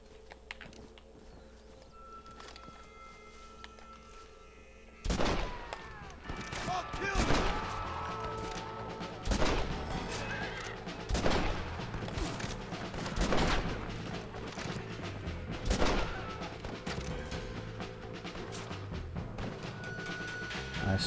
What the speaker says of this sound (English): Oh, they've got a machine gun.